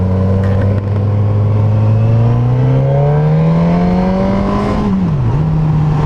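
A 2019 Suzuki GSX-S 1000F motorcycle pulling hard in first gear, engine note rising steadily and loudly from the rider's seat, then a brief dip and recovery near the end, with constant wind rush and no talking.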